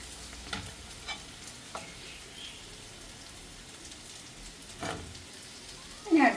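Potato paneer evening snack crackling softly as it fries in hot oil, a steady low sizzle broken by a few scraping stirs and a louder rustle near the end.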